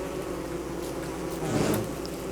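Buzzing of bees inside a video game, a steady insect drone running throughout at moderate level and swelling slightly near the end, with no talking.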